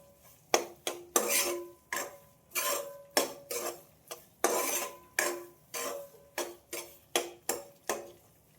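A spoon stirring and roasting carrot in a pan over a medium gas flame: a close, sharp metallic clink roughly every half second, repeated steadily with no talking.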